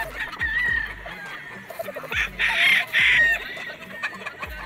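El Gamma Gray gamefowl roosters about seven months old clucking in short repeated bursts, with a couple of louder squawking calls, close by in a gamefarm setting.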